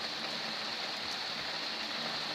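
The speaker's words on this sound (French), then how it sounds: "Ah là, c'est de la pluie forte, certes." Steady moderate to heavy rain pours down in Lœuilly, a dense continuous hiss with no pauses or voices.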